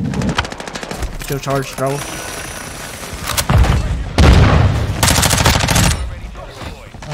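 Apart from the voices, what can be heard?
MP5 submachine gun gunfire in video game Modern Warfare 2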